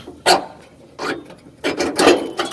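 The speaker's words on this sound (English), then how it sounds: "Alright, now it's time to take off these bolts." Fuel tank strap bolts being loosened on a 1985 Ford Bronco II, giving four short rasping, grinding bursts close by with brief pauses between, no talking.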